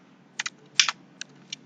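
A handful of quick keystrokes on a computer keyboard while a user ID is entered, close and crisp, with short uneven clicks separated by brief pauses against a quiet room hum.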